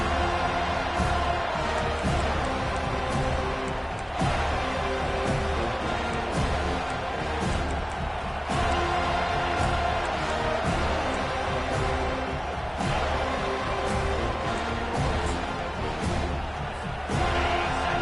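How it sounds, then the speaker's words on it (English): A stadium crowd at a football game roars continuously and loudly in an ear-splitting welcome for the visiting team, a dense, sustained wall of cheering with no clear pauses. "This crowd bringing an ear-splitting welcome to their visitors."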